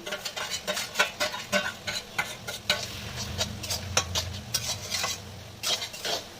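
Dhemni greens and fried prawns are stirred in a pan: a rapid run of scraping, clinking utensil strokes over a soft, continuous sizzle, close and without speech.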